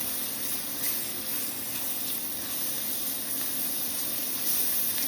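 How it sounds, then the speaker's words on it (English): Spices stirred and warming in a pan for a cabbage and bison bake give a steady soft sizzle and hiss that runs evenly throughout, close and fairly quiet. "I'm stirring those, warm up those spices."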